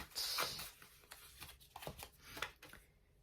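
Blue reading challenge cards being shuffled by hand, a quiet run of papery riffles and slides with soft taps, close and alone.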